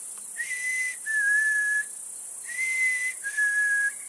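A person whistles an imitation of a bird call: four clear, thin notes in two pairs, each a short steady tone followed by a slightly lower one, close and alone.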